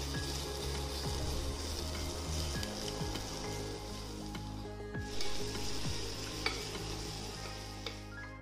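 Ginger, garlic and onion fry in a pan for coconut milk rice, giving a steady close sizzle with scraping stir strokes and occasional clinks, no talk.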